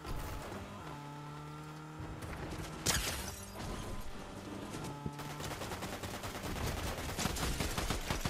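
Rapid bursts of video game gunfire crackle continuously over a busy, noisy background, fairly faint overall with no clear talking.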